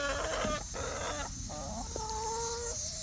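Several backyard chickens cluck and chortle in short, uneven bursts while being fed, close and steady over a constant background hum, with no talk.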